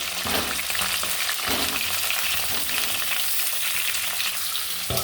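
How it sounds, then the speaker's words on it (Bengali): Pieces of pointed gourd (potol) fry in hot oil in a pan, reused from frying prawns and fish, giving a loud, steady sizzle with faint clatters of stirring throughout. "এই পটলগুলো এবার ভেজে নেব। এই একই তেলে"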